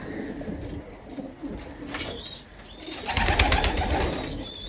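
Pigeons coo in a loft, soft low rolling calls repeating close by, with a burst of wing flutter and scuffling partway through.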